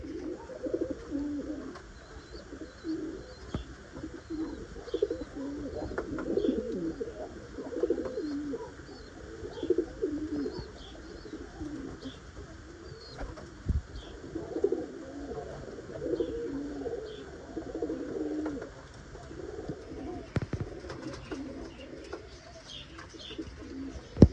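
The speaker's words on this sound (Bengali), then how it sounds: "তুই তো ডাকো না একদিন দেখলাম ডাকো পায়রার মতো" Mukhi pigeons coo in repeated low, throaty bursts that rise and fall over a soft background, with occasional faint chirps and a brief flutter near the end.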